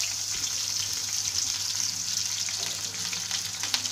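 Chopped onion, green chili and garlic frying in soybean oil in a pan on the stove make a continuous bright hiss with faint stirring, steady and close from start to finish.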